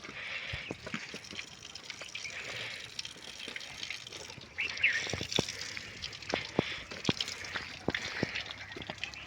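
Water flows steadily with a broad rushing hiss, splashing and trickling throughout, with scattered clicks and a bird call over the stream at moderate distance.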